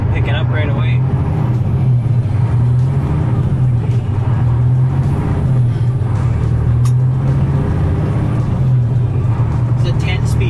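A 2009 Kenworth T800 truck with a 10-speed transmission driven around the block as it warms up, its engine a steady loud low rumble heard from inside the cab with faint higher rattles and hiss throughout.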